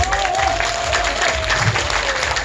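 An audience at a Korean pumba street performance at the Jinju Lantern Festival claps steadily throughout, a dense wash of applause from many hands with a faint tone drifting underneath.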